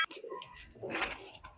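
Domestic flying pigeons kept for sale at a home loft in Bangladesh, giving a short low coo with soft bird sounds around it, fairly close, over about a second and a half.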